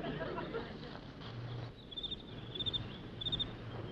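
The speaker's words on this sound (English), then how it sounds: "Just a cricket, Mr. Gregg." A cricket chirps at night in a city park, repeated short high-pitched trills in a few bursts against a low, steady background hum, moderately faint and fairly close.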